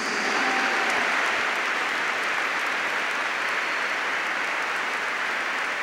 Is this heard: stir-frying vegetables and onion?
no